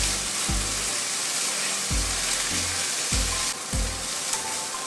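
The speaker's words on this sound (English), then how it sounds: "I love the smell of an onion frying" Onion sizzles and fries steadily in a hot pan for a fried rice dish, a loud, close, continuous crackle with several low thumps of stirring or pan movement and no talking.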